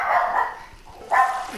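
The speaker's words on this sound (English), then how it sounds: "the dog always wants to bark at the wrong time" Two close, loud barks come from a dog on a bass fishing boat during a tournament, separated by a brief gap.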